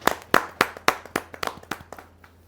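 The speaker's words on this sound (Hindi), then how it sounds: "मैं जोरदार तालियों के साथ उनका स्वागत करता हूं" Sharp, steady clapping of hands welcoming a guest at a Hindi poetry gathering, about a dozen distinct claps at an even rhythm, close by and fading slightly toward the end.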